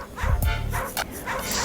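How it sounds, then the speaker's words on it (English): Wesley, a therapy dog visiting hospitals, gives a couple of quick close yips and barks followed by a short whimper, loud and alone with no talking. "What a good dog."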